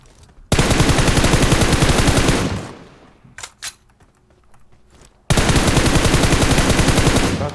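Automatic gunfire in PUBG Mobile: two long, loud bursts of rapid shots bracket a quieter stretch holding a few isolated shots.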